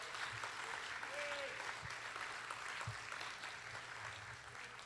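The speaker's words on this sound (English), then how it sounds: "we deserve a big round of applause" Steady audience applause fills the hall, a continuous dense clapping at moderate distance with no break through the short span.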